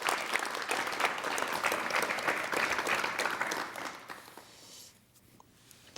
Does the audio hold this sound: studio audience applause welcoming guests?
yes